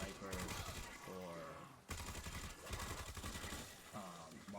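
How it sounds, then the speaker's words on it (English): Rapid automatic gunfire in a zombies video game, shooting spores to get the power on: loud, continuous bursts of shots that pause briefly near the two-second mark and then resume. "we're going to start by shooting spores off so we can get the power on"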